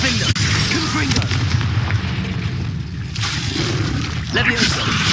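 A Confringo spell in the Hogwarts Legacy video game goes off as a heavy, booming blast amid continuous dense combat noise, loud and rumbling throughout.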